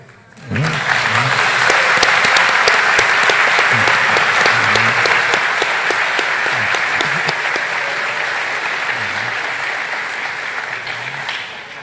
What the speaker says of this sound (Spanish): Por la fuerza de los aplausos